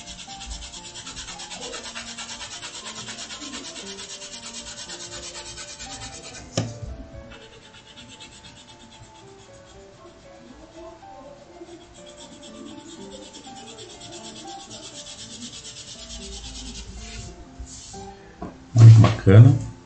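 Colored pencil rubbing steadily on paper while an apple is colored in, a soft continuous scratchy rasp close up, with a speaking voice over it and a brief louder knock near the end.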